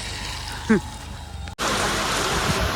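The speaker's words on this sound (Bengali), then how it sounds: "বৃষ্টি কন্টিনিউ পড়তেই আছে, কন্টিনিউ বৃষ্টি" Steady rain hisses in the background, with a brief voice heard early on, then the downpour continues loudly and evenly.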